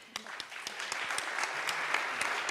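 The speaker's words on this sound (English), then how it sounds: "I think that deserves a round of applause." Audience applause at a European business and nature summit panel, a moderate room-filling patter of claps with some sharp individual hand claps standing out near the front.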